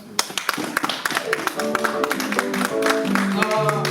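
A church congregation at a Pentecostal service in Cedar Rapids claps in praise, scattered claps building into steady rhythmic clapping, with voices and sustained musical tones rising underneath.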